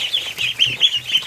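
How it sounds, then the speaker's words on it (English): Little ducklings peep in quick, high, repeated chirps, about six bright calls in a brisk uneven rhythm, close by with no talking. "little ducks"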